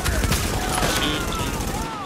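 Rapid gunfire in The Division, a dense, near fusillade of overlapping shots and impacts that runs throughout, with voice chatter mixed faintly underneath.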